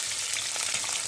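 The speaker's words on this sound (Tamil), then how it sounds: "எண்ணெய் விட்டுக்கலாம், கடுகு போட்டுக்கலாம்" Mustard seeds fry in hot oil, giving a brief steady hiss dotted with soft popping crackles, close up and without speech.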